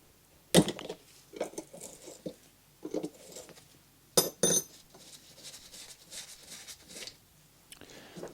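The bowl comes off a vintage lawn mower carburetor in a series of sharp metallic clicks and clinks, with two loud snaps and lighter tapping and scraping between them, close and intermittent with no speech.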